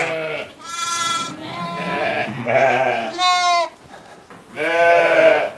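Lambs and sheep at an Armenian farm bleat loudly in several separate calls, some overlapping, close to the listener, with no talk.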